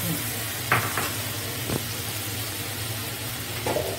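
Tilapia curry in a pan gives a steady, fairly loud sizzle and boil after water is poured in, broken by a few faint clinks of the spoon, with no voices.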